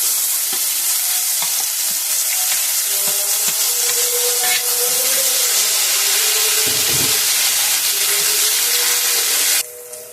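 Cumin seeds and ground spiny gourd filling fry in hot oil with a loud, steady sizzle and hiss, light stirring scrapes breaking through now and then until the sizzle drops off near the end.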